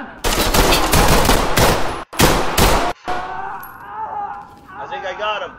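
Glock pistol fire in the tactical shooter Ready or Not: a loud, close burst of rapid shots, a brief pause, a second burst, then ringing tones and a faint mechanical clatter as the firing stops.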